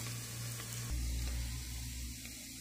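Onions frying in a pan, reddening as turmeric and mixed spices go in before goat liver, give a steady, close sizzle over a low hum, with a brief shift in texture partway through.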